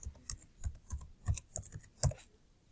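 Fingers tap out a short burst of keystrokes on a computer keyboard, quick irregular clicks close by and quiet, with no talking.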